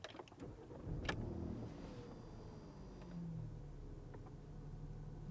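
A black 2017 Porsche Cayenne starts up quietly: a sharp click near the start, then a soft cranking rumble that settles into a low, steady idle hum, with no talking.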